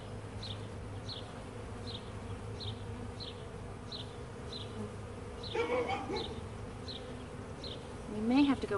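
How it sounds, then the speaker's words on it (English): Honeybees hum in a steady, droning buzz close by at a hive being installed, with a series of faint regular ticks and a brief voice-like sound partway through. "These bees just want to go home"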